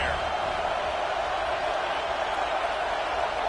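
A packed stadium crowd roars steadily at an American football game as the home defense keeps the opponent pinned deep in their own end, a dense, unbroken wall of cheering under a play-by-play voice.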